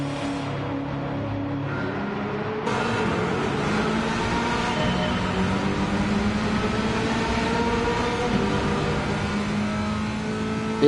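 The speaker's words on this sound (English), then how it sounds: "this car's got a fairly loud engine" A loud car engine in Gran Turismo 7 revs and accelerates at high pitch through a race on Special Stage Route X, a steady whining drone with gear changes and no talking.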